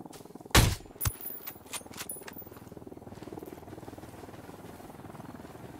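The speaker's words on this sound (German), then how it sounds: "Schon wieder ein Heli." A helicopter in the video game Ghost Recon Wildlands thrums with a steady rhythmic rotor pulse, joined by a loud burst that sounds like gunfire early on and scattered sharper hits.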